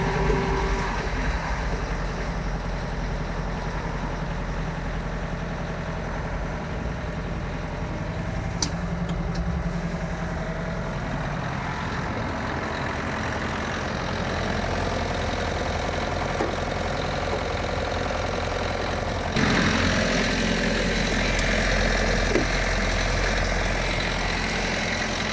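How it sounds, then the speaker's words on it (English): Tractor engine running steadily with a snowblower attached, a continuous low idling drone throughout, slightly louder toward the end. "Then the snowblower is ready to go."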